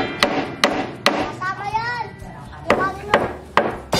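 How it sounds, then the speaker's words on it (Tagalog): Sharp hammer blows on wood ring out as someone builds a wooden bed frame (papag) at home, about eight spaced strikes, loud and close, with a voice talking between them. "medyo maingay kasi nagpupukpok si Papa"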